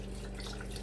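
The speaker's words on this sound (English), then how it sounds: "I'm gonna put in some more broth. Got another one. Just gonna pour that in there." Broth is poured into a cooking pot, a brief, soft, close liquid trickle and splash.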